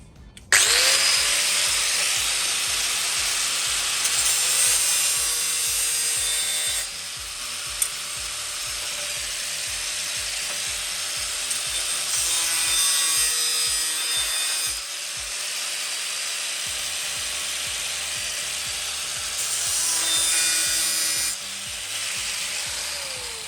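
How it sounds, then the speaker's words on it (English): Steady back-and-forth sawing cuts through material close to the end of a piece while fitting parts on a 1992 Oldsmobile 88, loud and near, continuous with a few brief pauses and no talking. "Really have to cut quite close to the end of it."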